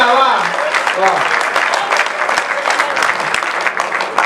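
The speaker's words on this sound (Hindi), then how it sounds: "एक बार जोरदार तालियां, वाह वाह" Loud, dense applause from a large crowd, steady clapping filling the whole stretch, with a voice briefly heard at the start.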